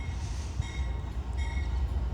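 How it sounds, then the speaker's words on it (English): An Amtrak passenger train rolls slowly along a station platform, giving a steady low rumble of wheels with faint high metallic tones above, continuous and fairly close with no voices. "It crawls to the platform while that cement train continues to crawl by itself."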